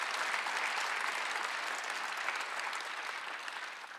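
A church congregation clapping together during a Sunday worship service, dense sustained applause that fades slightly toward the end, heard alone without talk.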